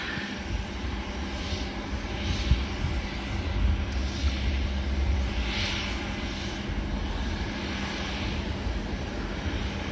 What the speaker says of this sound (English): This is a Boeing 767 ER extended range.